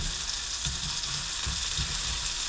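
Meatballs for wedding soup fry in a pan, a close, steady sizzle with a dense bright hiss and a few soft low bumps as they shift, and no one speaking.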